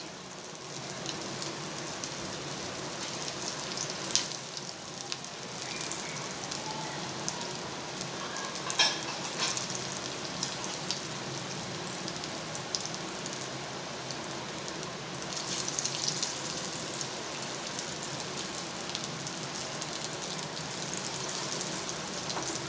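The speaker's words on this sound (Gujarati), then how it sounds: "મેં તેલ ગરમ કરવા મૂકી દીધું છે. એમાં આપણે આ રીતે પીસ મૂકી દઈશું." Raw potato pieces fry in hot oil, a continuous even sizzle and crackle like steady rain, close and moderately quiet, with no talking.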